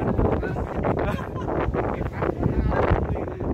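Strong sea wind buffets the microphone at a coastal sea cave in Coloane, Macau, a loud, continuous rushing roar with gusty surges. Voices can be heard faintly beneath it.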